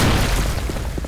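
A grenade blast in a video game bursts out as a deep, loud boom that quickly decays into a rumbling tail, alone with no talking.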